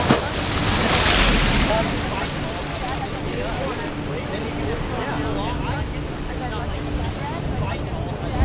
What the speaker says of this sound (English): the water's just ripping around right now